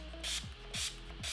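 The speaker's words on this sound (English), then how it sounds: "It's time for the final spray." Face setting spray misted from a pump bottle during makeup, three short bursty hisses evenly spaced, close and fairly loud, each with a faint click of the nozzle.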